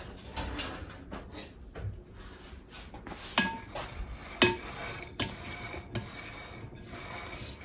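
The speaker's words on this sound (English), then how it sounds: "Just going to give that a quick stir." Ingredients get a quick stir in a bowl during Sunday meal prep, with a utensil scraping and clinking against the bowl and a few sharper taps standing out, close and moderately loud with no talking.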